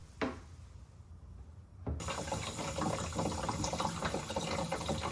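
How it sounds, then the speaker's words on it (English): Water pours into the tank of a Fanttik sprayer, starting abruptly after a short click and then running as a steady, close rushing stream to the end. "After filling the tank with water"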